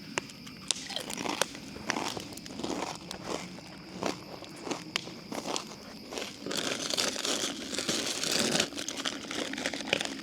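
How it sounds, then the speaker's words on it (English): Crunchy chips chewed close to the mic at a campfire cookout, a steady run of sharp crisp crunches and crinkles against light outdoor ambience, with no talk. "if you can hear me chewing those chips"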